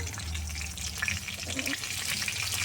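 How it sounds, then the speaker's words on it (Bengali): Black cumin seeds and dried red chilli hit hot oil in a home kitchen pan, the start of a taro-leaf paste; a steady close sizzle crackles throughout with no talk. "এই যে কালো জিরে নিয়েছি দিয়ে দিলাম তেলের মধ্যে এটা শুকনো লঙ্কা দিয়ে দিলাম"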